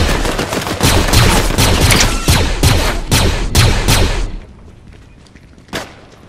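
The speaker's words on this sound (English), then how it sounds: "We're being shot at." Gunfire in Fortnite, rapid repeated shots in quick bursts for about four seconds, loud and close, then a pause with one more isolated shot.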